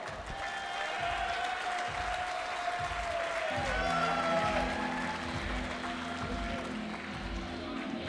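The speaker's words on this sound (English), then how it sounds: "can we have a round of applause" A crowd at the ACL World Championships applauds after a speech, with sustained clapping filling the room and a faint hum of voices underneath.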